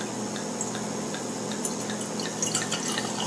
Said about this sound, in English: Watch what happens to the pastis when I add water.